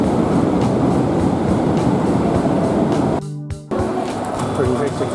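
Inside an executive-class passenger train running from Jakarta to Bandung, a loud, steady rolling rumble fills the cabin, briefly dropping out for a moment before returning.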